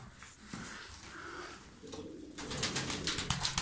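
Tumbler pigeons in a loft give soft, repeated cooing close by, building into louder, fluttery bursts of activity toward the end.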